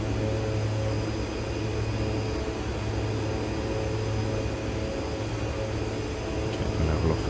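Simulated airliner engines in the flight game X-Plane 11 throttling down on approach, a steady broadband jet roar with a low hum, continuous and fairly loud, with no speech.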